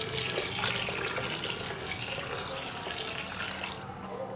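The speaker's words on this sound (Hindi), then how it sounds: "अब हम इसमें 3 गिलास पानी शामिल करेंगे" Water pours steadily into a pot of mixed lentils for dal, three glassfuls in a continuous loud splashing rush with no pauses or voices.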